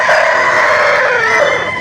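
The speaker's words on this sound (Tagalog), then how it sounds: "Ayan o, malaking manok. Brahma ang kanyang breed." A large Brahma rooster at a Lipa auction market crows loudly and close, one sustained strained cock-a-doodle-doo filling the moment.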